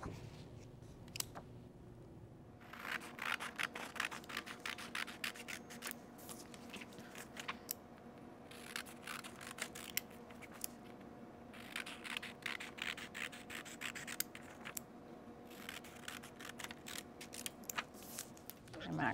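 Scissors cutting out a paper map template, a quiet series of irregular snipping and crunching cuts with small pauses, close and soft, with faint background noise.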